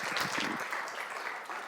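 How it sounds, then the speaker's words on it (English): An audience claps for a speaker named Alain at a conference on human versus AI translation, a dense, steady applause close and loud throughout, fading slightly at the end. "on va donner une bonne main d'applaudissement à Alain"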